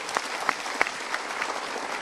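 Audience applause, a short burst of many hands clapping steadily at moderate volume from a seated crowd.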